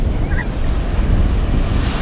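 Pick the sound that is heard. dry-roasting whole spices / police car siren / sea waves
sea waves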